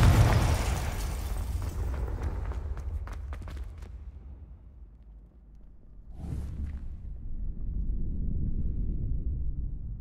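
A Confringo fire spell explodes in the Hogwarts Legacy video game with a loud broadband blast that decays into rumbling crackle, then a second whooshing burst rises into a sustained roar.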